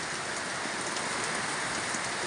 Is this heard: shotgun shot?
no